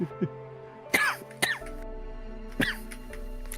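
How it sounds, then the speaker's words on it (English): Several short, sharp coughs close to a microphone in a tabletop role-playing voice session, spaced irregularly over a quiet background hum. "That's why you hear me cough when I'm changing tab."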